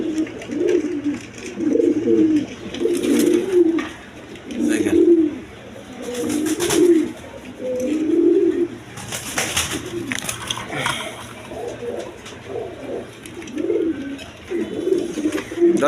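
A pair of Goola pigeons coo in repeated low, throaty bursts throughout, with faint background noise between calls.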